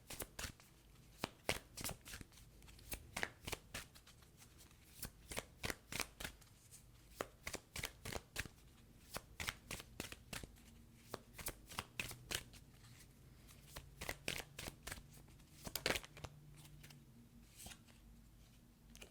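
Green Witch Oracle cards shuffled by hand in a quiet room: a long run of crisp, rapid riffling bursts and soft slaps, repeated steadily and close, with no talk.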